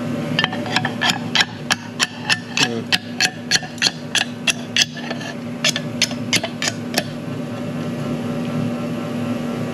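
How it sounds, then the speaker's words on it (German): A small piccolo hammer trims a slate heart with a quick, even run of about twenty crisp, close taps, a short pause, then a few more strikes before the tapping stops. "Ich hätte gerne den kleinen Piccolo-Hammer, der geht auch ganz gut."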